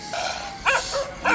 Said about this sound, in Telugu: దానికి తోడి నక్కలు కుక్కలు అరుపులు కూడా సరిపోయాయి కదండ్రా.